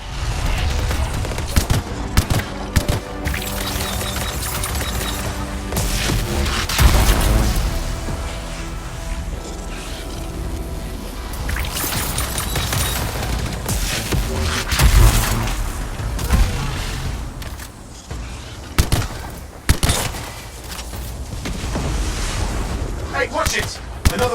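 Heavy gunfire from a large weapon in the video game Anthem: dense, loud bursts of shots and booms layered over battle music and effects, with louder peaks scattered throughout and what may be voices in the mix.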